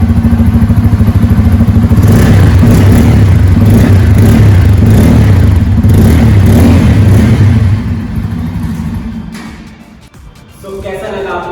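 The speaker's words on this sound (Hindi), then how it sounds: "तो फटाफट से उसके एग्जॉस्ट साउंड को सुनते हैं।" Bajaj Pulsar N250 motorcycle exhaust, loud and close, with a steady idle rumble followed by several revs that fade as the engine settles back down.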